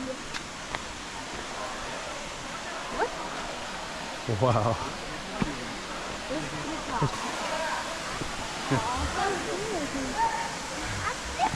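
Broadband rushing of a waterfall fills the scene at moderate distance, steady throughout, while people talk over it and a voice exclaims.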